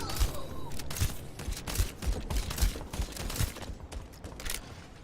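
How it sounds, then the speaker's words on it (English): Rapid bursts of video game gunfire rattle through the whole stretch, repeated volleys at a steady close range with no voice on top. "I'm shooting him right about here."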